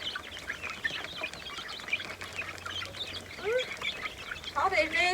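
Chickens cluck and call steadily close by in a farmyard, with someone talking over them throughout.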